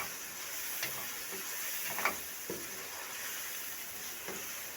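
Chopped vegetables for egg fried rice sizzle steadily in a hot pan, a continuous hiss with a few soft clicks and taps of stirring scattered through, no voices.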